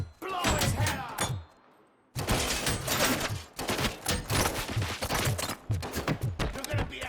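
Gunfire erupts in the video game Robocop: Rogue City, loud bursts of shots and rapid volleys coming close together, with a short silent gap early on before the firing resumes in dense clusters, mixed with shouted voices.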